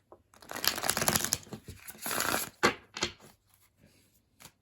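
A tarot deck is shuffled nearby in two rustling bursts, followed by a few sharp card taps and faint handling sounds.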